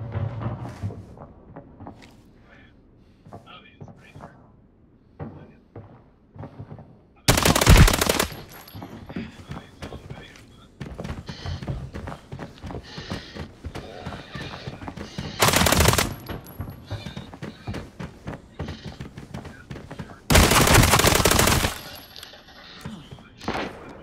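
Submachine gun fire in a first-person shooter video game, heard as three loud, sharp bursts of rapid automatic shots standing out against quieter in-game clatter, footsteps and ambient noise.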